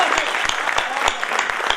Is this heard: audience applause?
yes